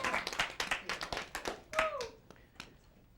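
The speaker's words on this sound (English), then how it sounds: "Give her a nice round of applause" Comedy club audience claps in a quick, irregular patter that thins out over a few seconds, with a voice speaking briefly over the applause.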